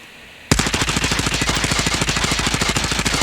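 Automatic gun in a shooter video game fired in one sustained, loud, rapid burst, with fast evenly spaced shots starting abruptly after a brief quiet moment and continuing to the end.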